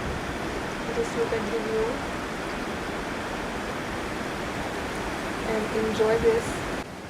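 Steady broad rush of the river Ganga flowing past in Rishikesh, a continuous wash of moving water heard from the bank, with a person speaking briefly over it near the start and end.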